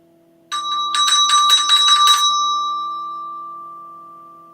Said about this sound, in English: A bag with a bell in it.